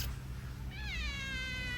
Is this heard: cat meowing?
yes